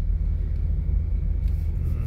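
Steady low rumble of slow car traffic on EDSA in Metro Manila at night, a continuous dense road drone without distinct horns or passes, heard from inside a vehicle.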